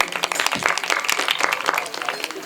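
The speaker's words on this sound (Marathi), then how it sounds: "दादांसाठी एकदा जोरदार टाळी होत्या" An audience at a kirtan breaks into brisk, dense clapping that runs continuously for a couple of seconds.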